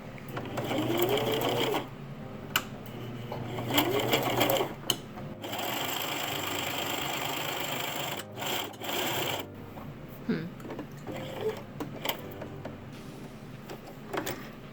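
Sewing machine running a zigzag stitch along the edge of a tiered skirt, a steady close mechanical whir in several bursts with brief stops and small clicks between runs, and faint rustle of fabric handling.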